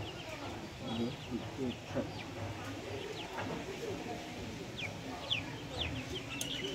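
Chickens cluck and chirp softly in the background, with scattered higher bird calls over a steady low rumble of farmyard activity.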